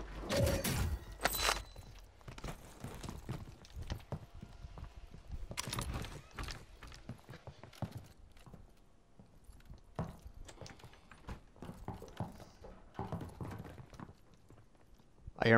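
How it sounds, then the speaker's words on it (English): Enemy footsteps run through the game Call of Duty: Warzone as faint, quick taps and scuffs, with a few louder thumps scattered among them. "I hear him running. I hear footsteps."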